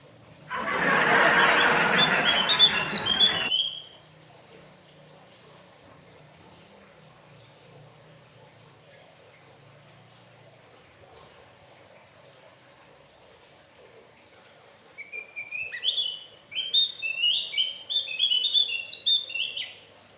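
Caged Javan white-eye singing, with a loud burst of noise at the start, then quiet background and a fast run of high chirping, twittering notes near the end.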